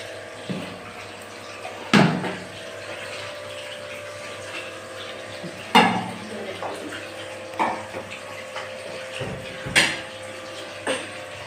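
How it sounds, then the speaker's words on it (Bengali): Water poured into a pan of ground spice paste for katla fish curry, a soft running splash with several louder clanks of a utensil against the pan at intervals. "জল অ্যাড করবো।"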